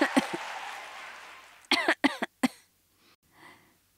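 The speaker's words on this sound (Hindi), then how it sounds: "मुझे खांसी है और मेरा गला भी खराब हो रहा है" A breathy sound trails off, then several sharp coughs from a woman with a sore throat come in a quick cluster close up, followed by quiet breathing.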